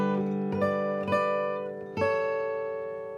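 Guitar picking a verse passage, starting with a sustained ringing chord and adding fresh plucked notes roughly every half second, each attack decaying slowly into a rich, even tone, played solo and close with no voices.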